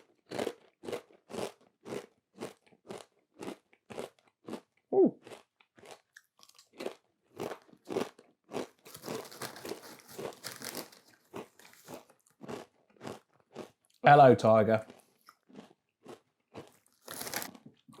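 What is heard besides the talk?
crunching jalapeño-flavoured crisps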